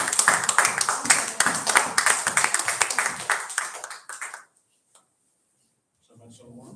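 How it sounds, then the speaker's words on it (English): A church audience claps for an elder, brisk rhythmic clapping from many hands close by for about four seconds before stopping abruptly, followed by silence and then faint voices. "We now invite our elder, the first class. Applause for him."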